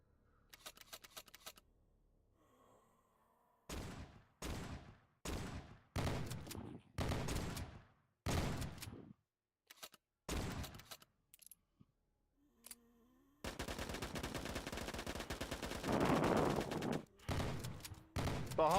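Video game gunfire in VRChat as players shoot zombies: a string of sharp, separate shots in uneven bursts, followed by a denser stretch of rapid firing near the end.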